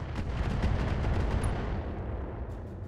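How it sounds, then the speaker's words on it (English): Dense, continuous barrage of rumbling blasts from a BattleTech mech launching missiles from its missile pods, loud and sustained throughout with no talk over it. "It's not even firing both its missile pods, either."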